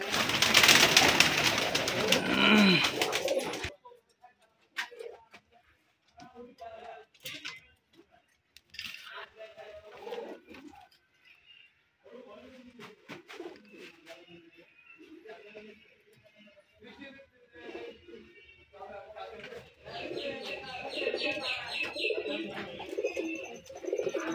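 Rajshahi Rajgolla pigeons coo in soft, scattered bursts close by after a short loud rustling at the start, with faint clinks and knocks mixed in.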